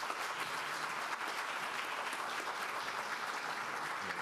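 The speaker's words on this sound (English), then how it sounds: "give me another round of applause for that" Steady, even applause from a conference audience at a community health summit fills the whole stretch, moderately distant, with no voices over it.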